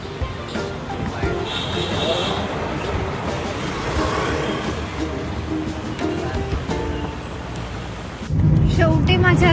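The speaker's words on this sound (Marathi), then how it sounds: "बघा शकता किती पाऊस सुरू झाला आहे ते खूप" Heavy rain drums on a moving car while it travels, with constant road and wind noise and a louder rush of rain near the end.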